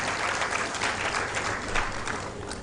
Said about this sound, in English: Please give his suit a round of applause.